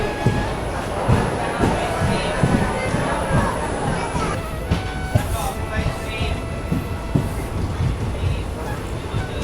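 Sleeper-class express train rolling behind a diesel locomotive, a steady loud rumble of wheels and carriage noise with rhythmic rail clatter throughout, a faint high whine above, and crowd murmur inside the coach.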